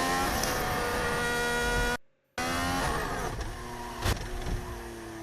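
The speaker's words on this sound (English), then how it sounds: "That was somebody flooring the accelerator." Formula 1 car engine screaming at high revs as the driver floors the accelerator, a sustained harmonic whine with rising tones that cuts out briefly before resuming, loud and close, with no talking.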